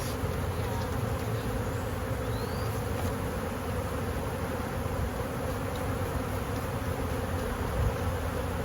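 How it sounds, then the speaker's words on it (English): Dense, steady buzzing of a large swarm of honeybees being shaken and transferred into a new hive, loud and continuous throughout with no talking. "That was a lot of bees."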